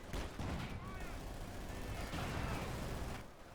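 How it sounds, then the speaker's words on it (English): Artillery fire from a B4 howitzer striking a Puma armoured car in the Company of Heroes 2 strategy game, a dense continuous rumble of battlefield blasts and gunfire sustained across the whole stretch. "Direct hit on the Puma with a B4."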